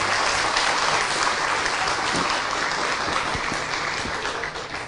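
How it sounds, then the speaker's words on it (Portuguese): An audience at an architecture lecture at the Museu da Casa Brasileira claps to welcome the speakers: dense, steady applause filling the room and easing off slightly at the very end. "queria pedir uma salva de palmas"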